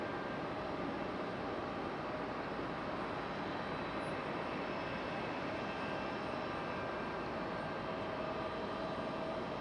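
A JetBlue jet airliner passes at Raleigh-Durham International Airport, a steady moderate engine roar with a faint whine on top that holds evenly throughout, with no voices.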